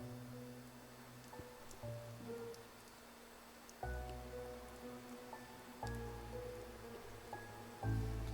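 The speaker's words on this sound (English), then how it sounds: "Oh no, it's raining on a piece of Japanese media." Rain falling in the video game Raidou Kuzunoha vs The Soulless Army, a soft and steady patter heard quietly under low sustained game music tones.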